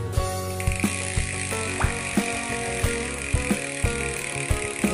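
Rear hub freewheel ratchet of a Polygon commuter bike, a rapid, steady train of blunt clicks as the wheel spins freely, close and continuous with a faint mechanical hum underneath, no talking.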